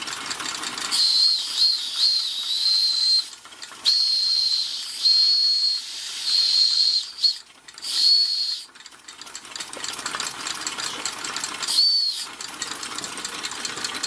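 Shrill whistle on a running Weeden toy steam engine, sounding in several sustained blasts over a constant hiss of escaping steam, with short breaks between blows.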